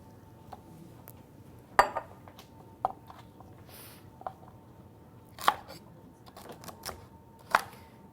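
A knife dicing green pepper, yellow pepper and onion on a cutting board, giving a few sharp, separate chopping knocks spread out over quiet kitchen background noise.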